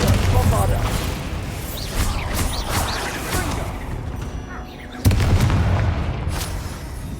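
Bombarda and Confringo spells exploding in Hogwarts Legacy combat: repeated booming blasts, the heaviest near the end, over game voices and noise.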